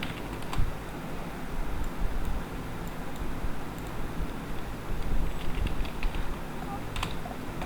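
Computer keyboard typing as column headers go into an Excel sheet, with steady close key clicks over a soft background hiss.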